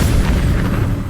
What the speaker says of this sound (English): Let's get some alchemist fire going on here.